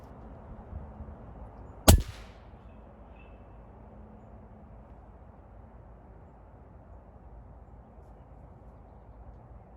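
A single sharp crack of an FX Impact air rifle shot at a squirrel outdoors, brief and fairly loud against a quiet, steady background hiss.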